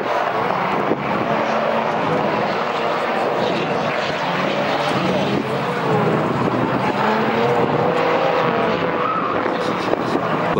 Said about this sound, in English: Car's absolutely fucking ripping. Going so hard.